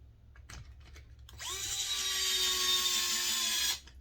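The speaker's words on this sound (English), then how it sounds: "these are 14mm long screws. I run them in with the driver" A power driver runs a 14mm screw into an RC car radio tray with one steady whirring burst lasting a couple of seconds, preceded by faint handling clicks, close and fairly quiet.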